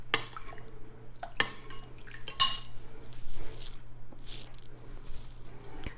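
A spoon clinks and scrapes against a bowl while a thick sugar mixture is stirred to dissolve the sugar, with sharp taps and wet swishing over a low background hum.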